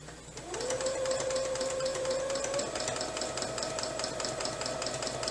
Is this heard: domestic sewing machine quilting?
yes